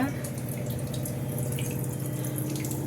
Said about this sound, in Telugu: ఫిల్టర్ ఆన్ చేశాను అదే సౌండ్ వస్తుందండి